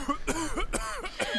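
A short burst of coughing, two or three rough throaty hacks in quick succession, close by.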